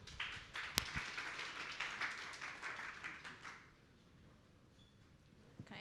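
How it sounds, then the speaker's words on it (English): Modest audience applause for a speaker after a conference talk on media mix modeling, several seconds of scattered clapping with one sharp close clap near the start, dying away into quiet room tone with a faint tap at the end. "Please give a big round of applause for Suri."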